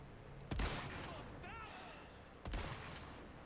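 Two separate gunshots from a Resident Evil 4 game, each a sharp loud crack with a short decay, about two seconds apart, with a brief voice-like sound between them.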